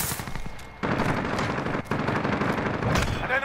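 Rapid bursts of gunfire in the video game Call of Duty: Modern Warfare crackle continuously at close range, with brief gaps and no talk over them.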